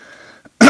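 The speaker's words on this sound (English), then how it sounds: "you always cough on that side" A single loud, close cough bursts out after a faint stretch of quiet, brief and harsh, during a live stream.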